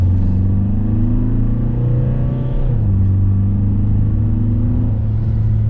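Tata Safari engine under full throttle, a loud, steady low drone with rising harmonics and one audible shift midway, heard from inside the cabin with no talking.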